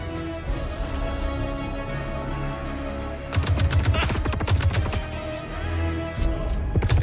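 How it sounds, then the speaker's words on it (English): Gunfire in Squadron 42 gameplay, steady rapid automatic bursts starting partway through and continuing over a droning ambient hum, loud and close. "The gun sounds."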